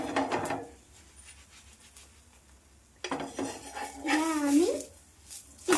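A metal spatula clinks and scrapes against a pan while an omelette is turned, with a few sharp clatters at the start and a longer scraping, rattling stretch near the end, close and fairly loud.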